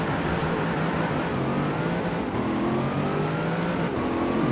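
A Chevrolet Corvette ZR1 engine in Forza at high speed in sixth gear, a loud continuous drone with slowly rising tones as it pulls, steady throughout and without talking.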